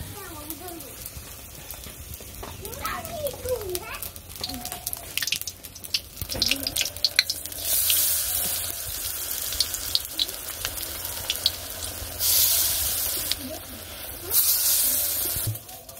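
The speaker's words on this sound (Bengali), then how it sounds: "ফুলের বড়া দিয়ে মাখানো হয়ে গেছে, এখানে তেলে ছেড়ে দিয়ে দিলাম তেলে।" Flower fritters slide into hot oil in a village kitchen and fry with a crackling, hissing sizzle that swells in bursts, close by, alongside faint background sounds.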